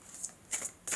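Tarot cards being shuffled: three quick, crisp riffling bursts in about a second, close and fairly quiet, with no talking.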